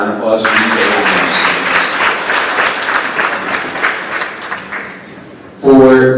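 Audience applause fills a school awards ceremony for grades 4-6, steady and full for about five seconds before a voice starts speaking at the end.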